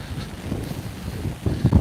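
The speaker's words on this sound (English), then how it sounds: "Wind just is gusting quite a bit." Gusting wind from Hurricane Ian buffets the microphone in uneven surges, a rough low rumble that strengthens into heavier blasts near the end, loud and close with no speech.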